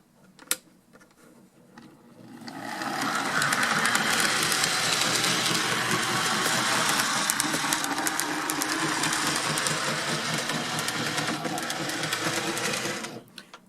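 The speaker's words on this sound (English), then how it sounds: "let's see if we have got John's loco running here or not" A vintage Mantua four-wheel tank engine model locomotive starts up and runs along the track, a steady, close, buzzing electric motor whir with fine rattling that holds evenly for about ten seconds, then cuts off.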